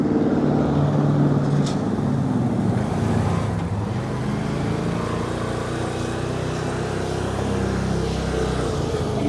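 A 2025 Aodes Workcross 1000-6 six-seater UTV drives along, its engine and the rush of wind and tires making a continuous, loud, even drone with no talking over it.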